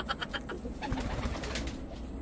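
Pigeons cooing nearby, soft throaty calls repeating in a loose rhythm over faint background noise.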